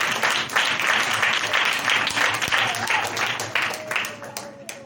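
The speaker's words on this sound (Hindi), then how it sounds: "आइए जोरदार तालियां।" Loud clapping from a church gathering, a dense burst of hands that swells and then thins out toward the end, with speech faintly underneath.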